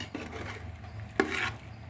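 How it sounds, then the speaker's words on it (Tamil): Tomatoes being stirred in a hot pan, a soft scraping stir with a sharp utensil knock partway through, over a faint steady sizzle in a home kitchen. "தக்காளியை சேர்த்து நல்லா கிளறி விட்டுடலாம்"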